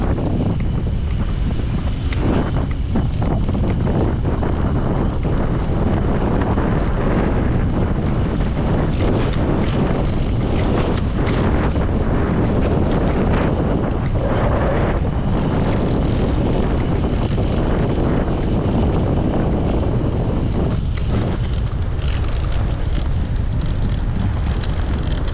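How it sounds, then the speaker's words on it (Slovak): Steady, loud buffeting wind roar fills the microphone for the whole stretch while riding outdoors on a sunny day, broadband and unbroken, with no speech heard. "Nám teraz zavadzia vietor, tak je to celkom bieda"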